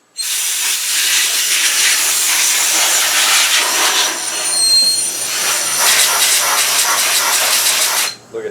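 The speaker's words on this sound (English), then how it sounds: "I just use compressed air" A compressed air nozzle blows in a steady, loud, close hiss for about eight seconds, with a slight wavering in strength before it cuts off.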